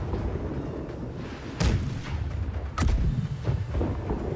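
Ship cannons from the naval combat game Blackwake fire in two heavy booms about a second apart over a steady rumble of battle ambience, loud and close.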